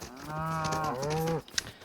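Cows in LEGO Fortnite Odyssey let out a single drawn-out moo, close and clear, lasting over a second before a brief click.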